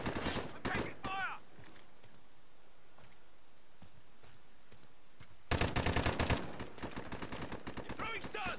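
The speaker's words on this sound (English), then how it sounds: "I'm taking fire." Rapid gunfire crackles in Call of Duty Modern Warfare, with a short burst at the start and a louder rattling volley later, separated by quieter background ambience and occasional voices.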